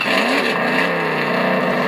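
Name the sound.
engine sound of an RC FPV Batmobile toy car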